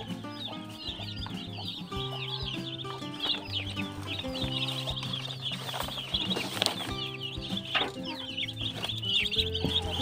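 Chickens cluck and a rooster calls steadily on a backyard farm, with the high peeping of duckling chicks running throughout, several birds close by and overlapping for the whole stretch.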